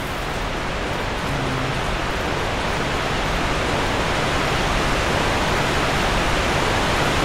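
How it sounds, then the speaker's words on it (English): A constant, loud roar of rushing water from a waterfall in the video game Dark Souls 2, unbroken and even, with no voices. "That's the very noisy waterfall."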